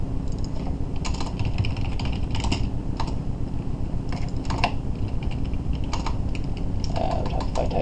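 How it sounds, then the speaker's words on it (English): Keys clatter on a computer keyboard while code is typed, irregular clusters of crisp clicks and quick bursts spread over several seconds against a steady low hum, with no talking. "If I type this properly."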